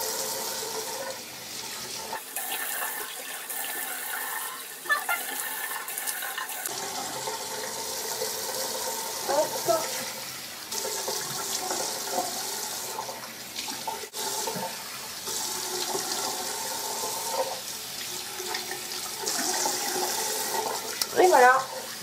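Running tap water streams into a sink as a face is rinsed during a makeup-removal routine, a steady close splashing flow with brief shifts in tone as hands move through it.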